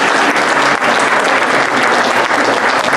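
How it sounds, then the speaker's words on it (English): A crowd at a community gathering gives a round of applause: loud, dense, continuous clapping close by for the whole stretch, with no voices over it. "a big round of applause"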